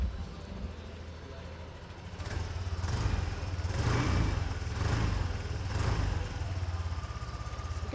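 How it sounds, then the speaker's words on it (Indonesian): A 2020 Yamaha NMax scooter engine idling, then blipped with several short throttle revs that swell and fade in a rhythmic pattern. The engine is close and moderately loud, with a person talking nearby. "Coba kita gas sedikit."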